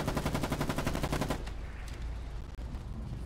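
A machine gun rattles off a fast, steady stream of rounds during a fight in Foxhole, loud and close for about a second and a half, then cuts off, leaving muffled battlefield rumble and distant thuds.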